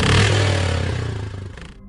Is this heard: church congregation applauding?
no